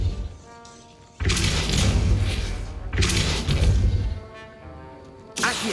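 Depulso spell casts in Hogwarts Legacy land as heavy whooshing thuds, three loud bursts each holding for a second or more against quieter game ambience.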